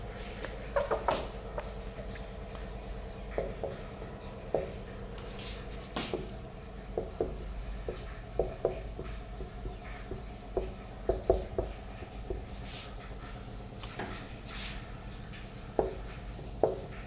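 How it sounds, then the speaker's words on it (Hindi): Marker or chalk scratches out a question on a board in a quiet room, in short irregular strokes and taps, faint and close, with no talking. "मैं बोर्ड पे इसको लिख रहा हूं।"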